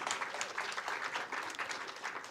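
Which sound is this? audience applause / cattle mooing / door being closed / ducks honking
audience applause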